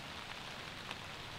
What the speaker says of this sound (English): It's raining like crazy on us